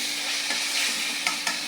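Ginger and garlic are added to oil with browned onions in a pan for a village-style papaya and pangas fish curry, giving a steady sizzle of frying with a few light scraping stirs near the end.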